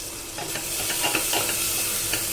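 A spoon scrapes and stirs a big chopped desi tomato with salt, turmeric, coriander and chili powder into browned onions in a hot pan, the mixture frying with a steady, close sizzle.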